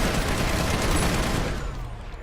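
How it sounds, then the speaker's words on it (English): Sustained rapid automatic fire from Sunderer gunner turrets in Planetside 2 forms a dense, loud, continuous roar that thins out near the end. "they've got pretty accurate fire and a rapid fire rate"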